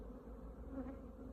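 Honeybees buzz around an opened hive, a dense, steady drone of many wings close by and continuous throughout.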